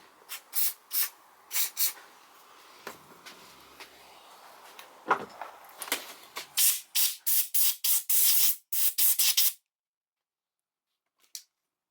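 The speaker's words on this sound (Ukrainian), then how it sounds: "Обезжирюємо таким омивачом за карбюратор і здуваємо компресором." Aerosol degreaser sprayed onto a brush cutter carburetor and its bolt mounts, then blown clean with a compressor air nozzle: a run of short, close hissing spray bursts, coming faster toward the end, before falling silent, with one last brief puff.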